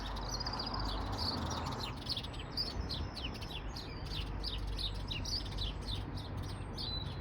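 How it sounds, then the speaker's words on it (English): Sparrows squabble in a garden, a rapid stream of sharp, overlapping chirps over a constant low outdoor rumble. "fighting sparrows."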